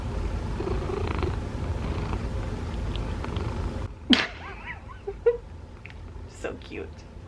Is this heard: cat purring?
yes